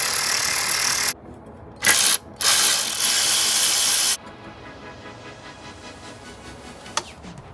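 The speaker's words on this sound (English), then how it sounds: "so I'm gonna take the other two out now" A ratchet clicks loudly in quick bursts as it removes 13 mm bolts from a power steering pulley, with short pauses between the bursts. After that comes quieter mechanical rattling and one sharp tick near the end.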